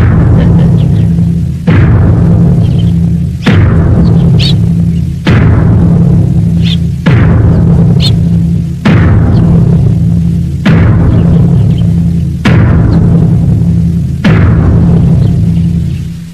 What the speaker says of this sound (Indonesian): Inilah yang terjadi jauh sebelum gua itu meledak dihantam oleh Bandul Sagotra.